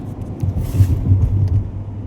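A car on the road to the Mahad Ganpati temple gives a steady, low engine-and-road rumble from inside the cabin, with no one talking.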